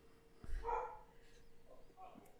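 Dogs bark indoors, one sharp bark followed by a few softer yips and whines, a little distant, heard beneath faint speech.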